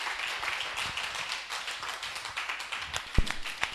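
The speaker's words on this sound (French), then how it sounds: "on acclame pour dire merci à l'Éternel" A church congregation, standing, applauds in thanks to God, with dense steady clapping that fills the space, joined by one louder sharp clap near the end.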